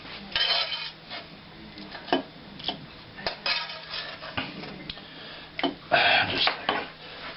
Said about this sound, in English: we want to scoop as much of the apples out, all the apples first